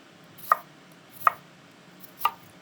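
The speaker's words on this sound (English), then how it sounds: "we're gonna slice it" Knife slicing a peeled, root-end-trimmed vegetable vertically into thin slices for a mizuna salad: three crisp, evenly spaced cuts land on a board, each one sharp and close, with quiet between.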